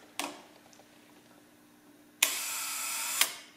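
A large-format lens shutter gives a sharp click as it is cocked, then after a pause a louder snap when released, followed by a brief buzzing whir ending in a second click.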